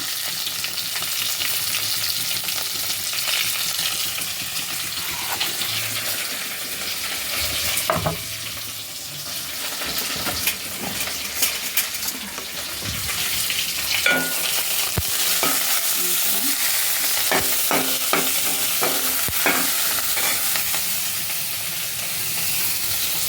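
Curry leaves, coriander and green chillies frying in a pan for ridge gourd chutney, a loud steady sizzle and hiss with occasional spatula scrapes and sharp crackles, close up and without speech.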